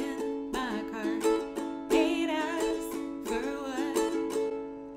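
Breathy flute melody with bent, sliding notes in a loose jazzy phrasing, played solo and close, with short pauses between phrases.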